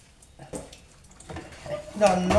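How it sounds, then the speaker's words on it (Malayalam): A ladle stirs horse gram curry in a cooking pot, giving soft scraping and clinking that grows louder toward the end while a voice speaks over it. "ഇനി നമുക്ക് ഇത് ഒരു തവിയിട്ട് നമുക്ക് ഇതൊന്ന് ഇളക്കാം"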